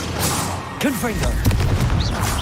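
Confringo spell explosion in the Hogwarts Legacy video game, a close, heavy boom followed by crackling bursts amid dense combat noise, with a voice speaking briefly.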